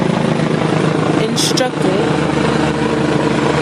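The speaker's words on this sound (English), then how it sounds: "that's a helicopter flying right over my head." A helicopter drones steadily overhead, its low rotor thrum continuous beneath a man's speech.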